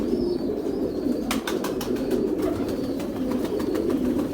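Pigeons coo steadily in a low, throaty murmur, with some light flapping and tapping sounds close by.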